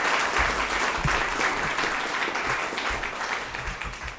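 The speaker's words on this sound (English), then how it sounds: "Go ahead and applaud." A seated audience at a metropolitan club panel event applauds continuously, a dense wash of hand claps from a crowd that fades slightly toward the end.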